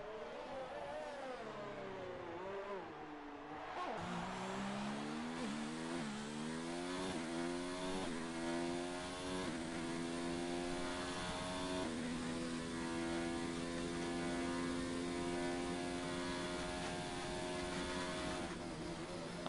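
A Williams Formula 1 car starting a lap in an F1 video game at Italy, its high-pitched engine screaming and climbing through rapid gear changes, then holding a steady sustained howl, loud and close throughout.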